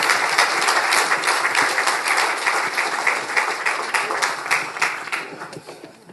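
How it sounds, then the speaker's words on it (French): An audience applauds a team being introduced on stage at a corporate presentation evening, with loud, dense, continuous clapping that slowly thins and fades toward the end. "sous les applaudissements"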